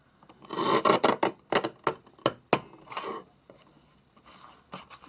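A small paper guillotine trimmer chops through paper in a quick run of sharp rasping cuts and snaps, close and fairly loud, then a few lighter slicing strokes as the trimming goes on, with no voices.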